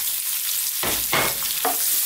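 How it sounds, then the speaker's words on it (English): Onions hitting a hot pan and sizzling as they are stir-fried over high heat for a bok choy and mushroom dish, a loud hiss bursting in near the middle and continuing with stirring scrapes, no talking. "We're now going to add our onions."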